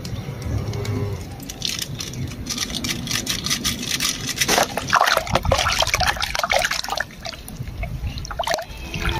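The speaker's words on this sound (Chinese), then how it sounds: "用水来溶解一下" Water splashes and trickles as it is poured to dissolve rooting powder, a continuous liquid gurgle with scraping and sloshing that grows busier partway through.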